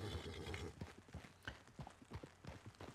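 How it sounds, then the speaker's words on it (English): Horse hooves in Red Dead Redemption 2 clip-clop in a quick, uneven trotting rhythm as the called horse approaches, the hoofbeats fairly close and distinct against a faint background. "Let's go ahead and call my horse over."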